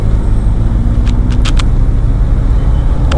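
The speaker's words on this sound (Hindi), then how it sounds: "राइट हैंड साइड में तो पूरा ट्रैफिक फंसा हुआ है एकदम" Steady, loud road traffic rumbles in a jammed Kolkata street, a continuous low engine drone with a few brief higher clicks over the top.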